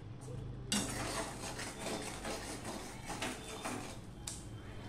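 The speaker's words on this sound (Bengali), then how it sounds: "সম্পূর্ণটা ভালো করে দেখো মিশিয়ে নিচ্ছি।" Spiced green mango pickle with turmeric being stirred in a pan, a steady scraping and clinking of a spoon against metal, with soft sizzling beneath and no talking.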